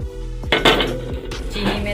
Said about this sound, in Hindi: पैन के अंदर चीनी डालनी है।